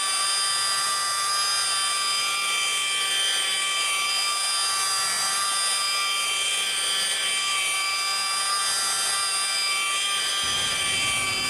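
A car buffer spins a fluffy wool pad at about 1,000 RPM during paint overspray removal, a steady high-pitched whine holding constant for several seconds before the low rumble drops away near the end; no one speaks.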